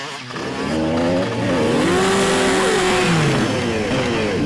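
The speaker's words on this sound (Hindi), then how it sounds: "जिस तरीके से इसने बाइक का स्टंट किया है" A stunt motorbike engine revs hard and continuously, its pitch climbing and falling through sweeping throttle changes, loud and close with a rough mechanical buzz and no talk.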